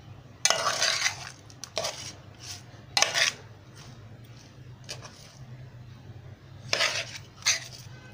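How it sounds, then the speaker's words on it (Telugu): Fish pieces being mixed with a spice mixture in a pot, with scattered clinks and scrapes of a utensil against the metal over a low steady hum, bursts of stirring coming in short irregular clusters. "ఇక ఈ చేపలు ఈ మిశ్రమాన్ని బాగా కలుపుకోవాలి"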